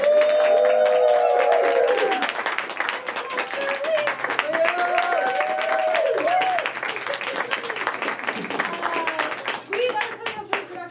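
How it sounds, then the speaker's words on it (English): An audience at a live anime-themed improv comedy show at a playhouse claps and cheers warmly, with dense, sustained applause mixed with shouting voices that gradually thins out. "Please, big round of applause for Katrina."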